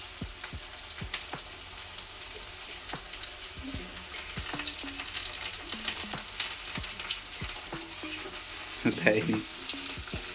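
Chopped onions and green chillies fry for Bengali chicken kasa, a fairly quiet crackling sizzle punctuated by repeated spatula clicks and scrapes as they are stirred, with a brief spoken word.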